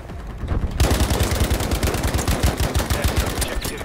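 Assault rifle fire in Battlefield V: after a brief lull, loud rapid automatic shots rattle out in a fast, even stream, continuing nearly without pause to the end.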